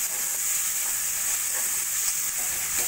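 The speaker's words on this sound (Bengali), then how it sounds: "চিকেন কিমা ভালো করে মিশিয়ে মশলার সঙ্গে ভালো করে কষিয়ে নেব।" Chicken mince frying with spices in a pan gives a steady, close, bright sizzle and hiss throughout, with faint stirring and no talk.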